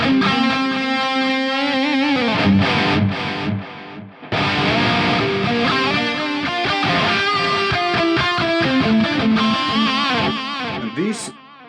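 Distorted electric guitar chords and notes played through a TC Electronic 2290 P panning delay, the repeats swirling and shifting across the mix; loud and continuous, no talking.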